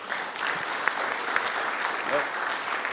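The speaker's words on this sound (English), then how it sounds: "give them a round of applause, please, real quick" An audience applauds at a cyber technology conference, a steady broadband clatter of many clapping hands lasting the full stretch, with a few sharper claps standing out and no talk over it.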